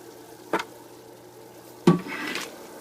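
Compost tea mixture being stirred in water, two brief splashy swishes close by, the second longer and trailing off into a soft watery churn.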